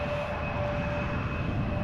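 An Embraer 175 landing at Amsterdam Schiphol produces a continuous, even jet roar with a faint steady whine, heard alone and fairly close.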